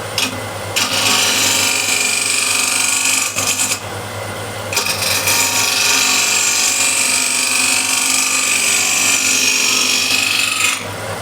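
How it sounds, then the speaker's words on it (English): Metal scraper shaving a wooden bowl spinning on a lathe, a steady close rasping scrape that runs almost continuously, dropping out briefly partway through before resuming just as loud. "I'll use a scraper to refine the shape here"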